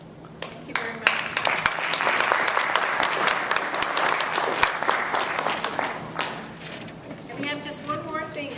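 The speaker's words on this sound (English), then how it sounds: "And a round of applause would be nice." An audience gives a round of applause at a gathering, a loud, sustained patter of many hands that rises quickly and tails off, with a few voices speaking over the start and end.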